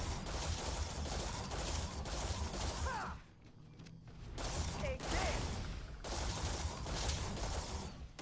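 Bursts of sci-fi gunfire aimed at the player in Starfield, loud dense volleys that drop out briefly mid-clip and then resume, with a voice talking over parts of the exchange.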